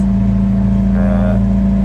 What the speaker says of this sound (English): I have the engine running for a couple of reasons.